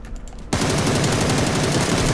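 Sustained rapid gunfire in a video game bursts in abruptly after a quiet half-second and continues loud and dense, without pause, for the rest of the clip.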